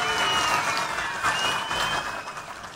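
Audience applause at a public government event fills a short burst, a dense spread of clapping that is loud at first and then slowly tapers.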